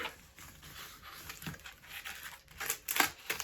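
Plastic bag packed with cardboard inside a lost postal parcel from Ukrposhta, handled and crinkled in soft, irregular rustles and crackles that grow sharper near the end, with no talk.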